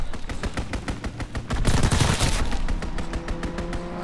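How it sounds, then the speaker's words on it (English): Rapid, continuous strafing gunfire from a fighter pilot attack in Call of Duty WWII hardcore mode, a steady stream of loud rattling shots that swells in the middle, with no talk over it. "Fighter pilot works for me. Strafing the target."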